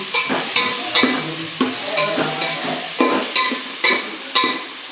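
Mint and fenugreek leaves are tossed by hand in a hot pan with fried spices, giving a rhythmic run of about ten crisp rustling, sizzling strokes, close and clear with no talking.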